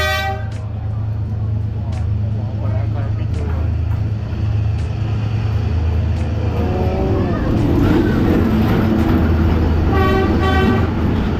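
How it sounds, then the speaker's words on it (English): A train rolls through Hanoi's narrow train street, with a loud horn blaring at the start and again near the end over a steady low rumble, while a crowd chatters close by. "we visited the train street, where a train passes just inches away from you"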